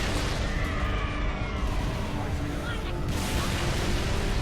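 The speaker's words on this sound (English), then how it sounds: "They throw so many more grenades." Grenades exploding in a Halo Master Chief Collection firefight, dense bursts and booms piling up in a continuous, loud barrage with no pause.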